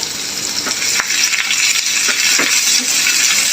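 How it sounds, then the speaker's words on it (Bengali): Sliced onion frying in hot oil for a shrimp bhuna hisses loudly and steadily, while a spatula stirs it with repeated scraping knocks against the pan. No voices are heard. "তেল গরম করে আমি একটু পেঁয়াজ দিয়ে দিলাম পেঁয়াজটা একটু আমি নেড়ে চেড়ে দিব"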